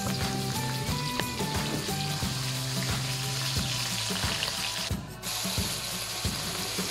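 Pork belly (liempo) frying in a wok with oil and garlic, a steady loud sizzle throughout, with recurring metallic clicks and scraping from stirring; no one talks.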